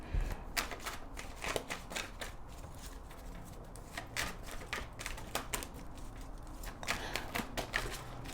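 A deck of oracle cards shuffled by hand, giving repeated quick riffling and flicking bursts in an uneven rhythm, close and fairly quiet with no talking.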